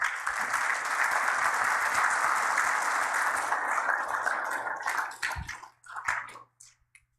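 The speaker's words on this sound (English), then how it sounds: "Give them all a round of applause." A banquet crowd at a church sportsman's gathering applauds in a dense, sustained burst of clapping that holds steady for several seconds, then thins into a few scattered claps and fades out.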